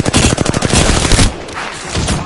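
Rapid automatic gunfire from an Apex Legends match, loud bursts crackling close for over a second, then fading to quieter distant shots and echo.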